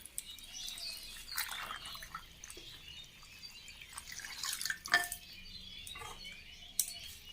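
Bottle gourd leaves are rinsed in clean water in a kitchen, with soft splashes and drips, a few light clinks of a pot or bowl, and quiet gaps between the sounds.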